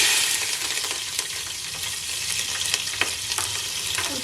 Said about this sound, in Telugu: ముందు పచ్చిమిర్చి వేసుకుంటున్నా.